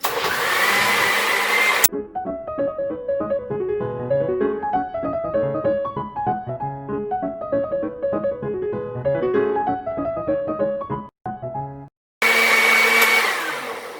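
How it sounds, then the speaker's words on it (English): An electric blender whirs loudly as it blends oats for oat milk, a harsh motor roar that runs briefly at the start, cuts out while melodic music plays, then kicks back in near the end. "I'm just gonna blend for 30 or 40 seconds."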